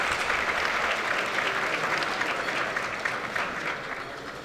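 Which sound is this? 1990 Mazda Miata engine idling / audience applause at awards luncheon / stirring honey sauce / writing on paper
audience applause at awards luncheon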